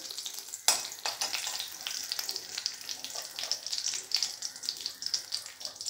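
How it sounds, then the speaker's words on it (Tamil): Cinnamon stick pieces frying in hot oil for a vegetable kuruma make a steady, close crackling sizzle. It starts with a sharp burst of spitting and continues as a busy, even hiss with small pops throughout. "இந்த பட்டை சின்னமன் பீஸ் அதை போட்டு பொரிய விடுங்க."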